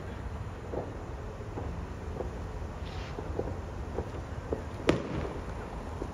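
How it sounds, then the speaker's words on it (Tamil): New Year fireworks in Kuwait pop faintly in the distance, a handful of scattered dull bursts over steady wind and background rumble, with one sharper crack standing out near the end. "நிறைய இடத்துல வெடி வெடிக்குதுங்க."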